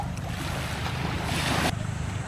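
Steady rushing of sea waves with wind noise, a continuous wash that swells and then drops off abruptly.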